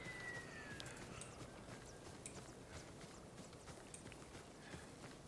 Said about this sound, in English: At least we have a really cool looking horse named Kage